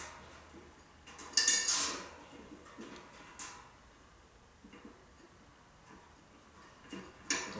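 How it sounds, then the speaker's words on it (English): A nut and screw being fitted onto a 60cm Zone 2 satellite dish bracket, heard as a few sharp metallic clinks and taps with quiet handling between them, close by and without speech. "I'm going to drop it in here and put in a single screw or single nut here"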